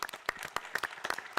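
Audience applause at a technology conference track session, a sparse scattering of distinct individual claps from a small crowd, fairly faint, over about a second and a half.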